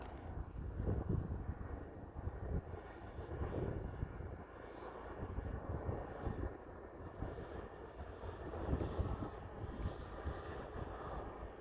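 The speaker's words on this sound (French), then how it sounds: "Voici le dernier des hélicos de la marine. Il va passer assez proche s'il continue dans cette trajectoire." A Navy H160 helicopter passes fairly close outdoors on Ouessant island, a steady rotor and engine rumble that swells and fades over about eleven seconds, moderately loud against wind.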